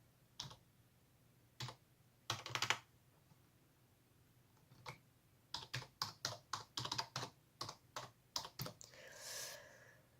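Bursts of quick clicking keystrokes on a computer keyboard, isolated taps at first, then a rapid run of typing, close and fairly quiet.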